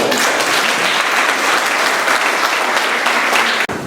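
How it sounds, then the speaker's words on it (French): A large audience at a fraternal committee gathering breaks into loud, sustained applause, dense clapping from many hands that continues nearly to the end before cutting off abruptly. "vous pouvez vous faire un gigantesque applaudissement"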